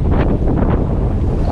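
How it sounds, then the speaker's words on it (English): Strong wind buffets the microphone over rolling sea waves in the Swedish archipelago, a continuous loud broadband roar with gusty swells and no voices. "Sometimes the waves are really big."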